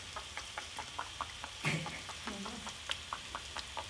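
Pork and spinach are stirred and fried in a pan, with soft sizzling and a run of light scraping and tapping strokes, one louder scrape partway through, all at low level with no talk.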